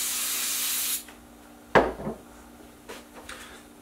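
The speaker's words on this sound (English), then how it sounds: "Just going to give everything a quick wipe down with brake cleaner again." A can of brake cleaner hisses in one steady spray for about a second onto engine parts during an Oldsmobile small-block build. A hard clunk follows, then soft intermittent rubbing as the parts are wiped down.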